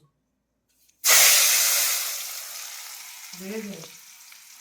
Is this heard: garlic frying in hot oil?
yes